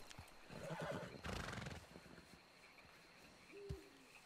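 A horse in a Wild West video game whinnies loudly, then rattles off a quick burst of hoof and tack noise, and a shorter snort or neigh follows near the end, all with no talking.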